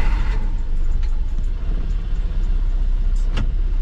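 A Mazda Porter Cab mini truck with a loose, worn gear shift moves off, its small engine giving a low steady rumble close by, with a few light mechanical clicks and knocks.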